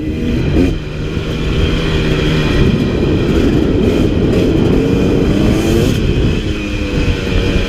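A 2017 KTM 300 XC two-stroke dirt bike is ridden on Alpine single track in Central Utah. Its engine drones loud and close, with a steady rasp and slight pitch shifts as the rider works the throttle. No voices are heard.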